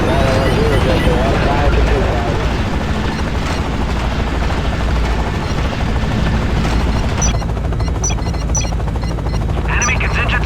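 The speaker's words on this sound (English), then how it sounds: "An AH-64 Apache platoon. It's on its way." An AH-64 Apache helicopter platoon arriving in the Act of War real-time strategy game: a steady, loud rotor roar with bursts of gunfire under continuous battle noise, alongside radio-style voices.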